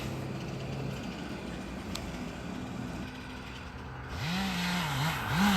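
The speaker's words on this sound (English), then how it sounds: "Them dump trucks coming by." Loaded dump trucks rolling past on US 4, a steady road rumble that swells near the end as a heavy engine drone rises and wavers.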